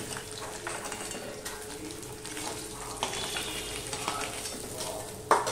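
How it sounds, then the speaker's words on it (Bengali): Rohu fish pieces sizzle and crackle steadily in hot oil in a pan, a soft continuous frying hiss with a faint clink near the end. "তার জন্য আমি মাছগুলো ভেজে নিলাম।"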